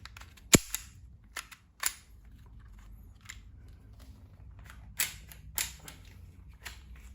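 A WE Glock 17 Gen5 gas blowback airsoft pistol fires one sharp, loud crack, followed by several fainter scattered clicks and snaps of handling in a quiet room.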